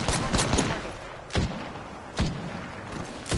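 Gunfire in the video game Apex Legends comes as a few sharp, loud shots, a quick cluster at the start and then single reports spaced about a second apart, with faint talk underneath.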